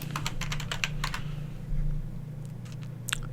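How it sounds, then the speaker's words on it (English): Fast bursts of keystrokes on a computer keyboard, close and clear, while text is entered into a WordPress page, with a low steady hum underneath and a short pause before a second quick run of typing. "So you just click anywhere, start typing."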